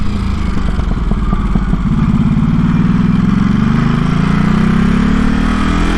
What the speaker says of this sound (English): the pops and burps of this exhaust